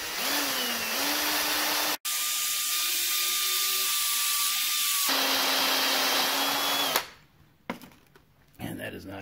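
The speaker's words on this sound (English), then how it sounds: "I think we just drill now." A power drill runs in long steady whirring stretches while drilling out a broken screw or bolt, pausing briefly and shifting pitch under load before cutting off into quieter handling sounds.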